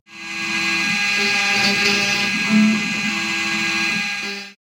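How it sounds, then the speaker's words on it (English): A steady, high-pitched whine of a CNC milling machine cutting with a single-flute end mill, continuous and close, with slight shifts in pitch as the tool works. "we then install a single flute end mill to start the machining process"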